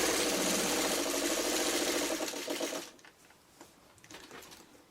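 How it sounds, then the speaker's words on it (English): Sewing machine stay stitching along a garment's seam allowance, a loud steady run of rapid needle strokes for under three seconds that stops abruptly, leaving faint handling noises. "that's where I'm going to quickly do my stay stitching"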